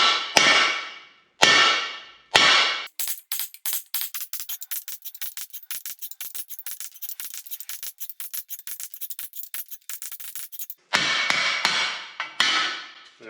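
A hammer taps a steel drift against the edge of a wheel centerpiece to knock it out, opening with a few heavy separate blows, then a long rapid run of sharp metallic taps, ending with several more spaced strikes.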